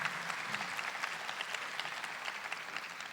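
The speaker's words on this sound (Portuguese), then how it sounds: "uma salva de palmas agora para os nossos irmãos idosos" An audience applauds elderly people at a Catholic gathering, a steady wash of many hands clapping at moderate distance, fairly quiet and continuous throughout with no talk over it.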